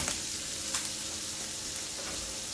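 Garlic butter sizzles with fried rice on a hot griddle, Benihana-style shrimp fried rice, giving a steady close crackling hiss with a few brief sharper pops and no talking.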